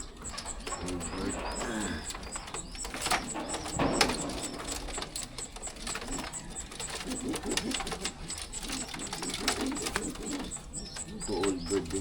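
Racing pigeons, old birds, coo repeatedly in a training box, soft throaty calls rising and falling over a steady background hum, fairly close, with someone speaking intermittently.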